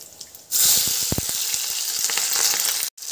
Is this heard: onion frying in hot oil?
yes